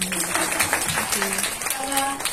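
Audience applause for a pianist who has just won a silver medal at the Tchaikovsky Competition, a dense, steady wash of clapping that fills the hall evenly throughout, with faint voices mixed in.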